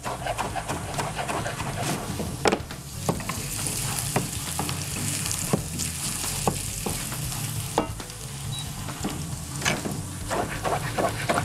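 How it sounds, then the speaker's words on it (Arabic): Shrimp fry with garlic in a hot pan, a continuous close sizzle broken by repeated scraping stir strokes and occasional clacks of a utensil against the pan. "ارجع قليهم مع الثوم"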